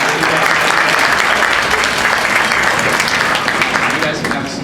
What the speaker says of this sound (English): Great. Let's give them a round of applause